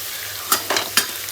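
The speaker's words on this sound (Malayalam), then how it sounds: "അപ്പം നമ്മളിത് ഏകദേശം ഫ്രൈ ആയിട്ടുണ്ട്" Food frying in a pan in a traditional home kitchen, a steady background sizzle broken by three short stirring or scraping bursts, close and moderately loud with no talking.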